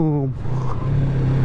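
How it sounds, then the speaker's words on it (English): A new motorcycle on a night ride drops a gear, its engine pitch sliding down before settling into a loud, steady drone close to the rider. "getting better at these downshifts though. Down, rev."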